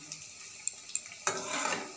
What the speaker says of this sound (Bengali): আমি তো কড়াইতে তেল দিয়ে ভাজা করছি